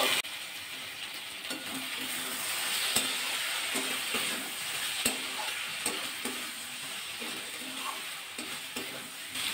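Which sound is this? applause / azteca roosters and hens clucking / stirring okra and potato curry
stirring okra and potato curry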